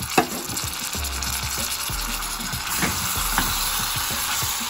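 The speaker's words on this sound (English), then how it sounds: "So now it's time to put all the tomatoes." Tomatoes go into a sizzling chickpea and potato curry, giving steady close frying crackle with stirring scrapes and a few utensil knocks, no voices.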